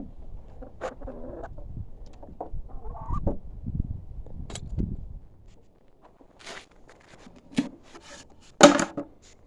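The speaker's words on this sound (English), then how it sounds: "chickens think it's some kind of party for them." Soft clucking and scratchy movement from chickens nearby, intermittent and low, with a sharper burst near the end.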